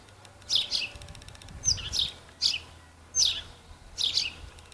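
Garden songbirds including sparrows and goldfinches give about six bright chirping bursts in irregular rhythm, moderately close, over a faint low background hum; distant mourning doves are not distinct.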